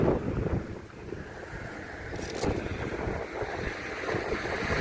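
Wind buffets the microphone in low, gusty roars beside the flooded banks of the Saône, rising and falling over a few seconds with no voices.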